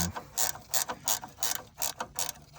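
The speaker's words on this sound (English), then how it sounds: "Take your wrench here and just tighten these guys up" A ratchet wrench tightens bolts on a 1994–2004 Ford Mustang during a hood release cable replacement, giving rapid clicking bursts in quick repeated strokes, close and crisp, with no talking.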